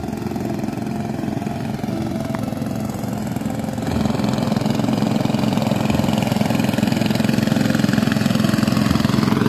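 Diesel engine pumping water through hoses by a reservoir near Wonogiri: a steady mid-pitched chugging drone that holds for the whole stretch and grows slightly louder partway through, close by with no voices.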